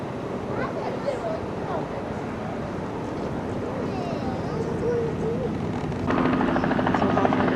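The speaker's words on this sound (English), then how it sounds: "helicopter down in there." A helicopter drones steadily in the distance over wind and water noise, heard from a cruise ship in Alaska, with a louder rumble building near the end.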